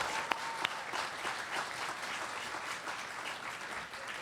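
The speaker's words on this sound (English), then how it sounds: "So stand up and let's give him a round of applause." A convention panel audience at San Diego Comic Con breaks into a steady, dense round of applause, a broad wash of many hands clapping that holds evenly throughout with no talk over it.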